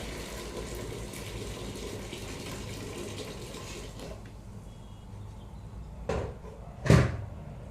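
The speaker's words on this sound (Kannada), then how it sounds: "ನೀರು ಬಿಸಿ ಆಯ್ತು ಇವಾಗ ಸಾಗು ಹಾಕಿದ ಪಾತ್ರೆಗೆ ನೀರನ್ನು ಹಾಕ್ತೇನೆ" Hot water poured into a pot of soaked sago for payasam: a steady, low splashing pour for about four seconds, then quiet with a couple of sharp pot clanks.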